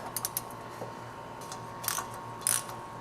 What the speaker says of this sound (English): You're just sitting here watching me undo bolts